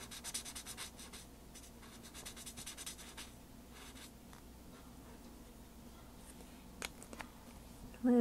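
Chameleon Color Tone pen nib scratching and rubbing softly across paper as ink is blended, a faint, quiet continuous stroking with small pauses.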